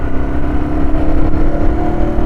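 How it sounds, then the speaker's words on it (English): A Yamaha TW200 motorcycle engine drones loudly while riding, a steady low rumble with constant wind buffeting over a helmet-mounted action camera, close and dominant throughout. "the engine is loud as fuck"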